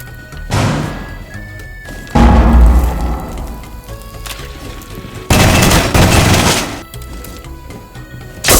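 Gunfire in the video game Rainbow Six Siege, loud close bursts and booms in uneven clusters, separated by quieter stretches of game ambience.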